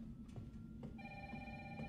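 A phone rings in the Resident Evil 3 Remake video game, its electronic bell tone steady and clear from about halfway through, layered over low background music and rumble.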